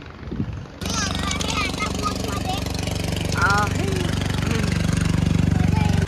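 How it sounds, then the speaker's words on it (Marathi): A boat motor on the river at Omkareshwar chugs loudly and steadily after starting up, a rhythmic low thrum, with voices talking over it. "बोटच्या मशीनचा आवाज ॲक्च्युली खूप होता"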